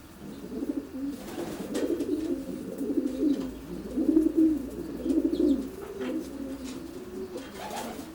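Show pigeons in a loft in Glasgow coo in repeated, throaty rolling phrases, close and fairly loud, with a few faint rustles between calls.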